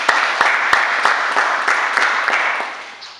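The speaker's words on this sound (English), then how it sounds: "A round of applause for us." An assembly audience breaks into loud, sustained applause, with a few sharp, distinct claps standing out over the steady patter before it slowly fades toward the end.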